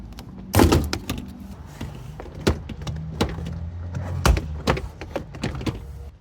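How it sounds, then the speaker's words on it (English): A door panel is pried off a Mazda 2 car door, giving several sharp plastic clip pops and thunks at irregular intervals over a quiet background, with no speech. "pull the door panel outward with moderate force"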